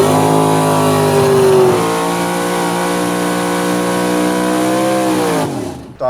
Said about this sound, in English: Pull up, do the burnout.